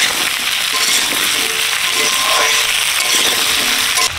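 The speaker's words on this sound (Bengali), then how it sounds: "আলু ভালো করে কষে নিয়েছি" Potatoes frying and being stirred in a pan with onions for a fish and ridge gourd curry, a steady close sizzle with light scraping and a faint clink near the end.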